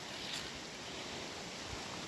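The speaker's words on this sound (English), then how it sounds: "Ah, beautiful Welsh water. Got a lovely stream." A stream in a windy Welsh valley gives a quiet, steady broadband wash of flowing water, faint and continuous with no talk over it.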